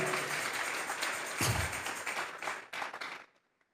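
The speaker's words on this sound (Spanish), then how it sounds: "Dele fuerte esas palmas al Dios de la gloria" A church congregation claps hands loudly and steadily in praise of God, a dense wash of many palms that swells, then thins and dies away into silence near the end.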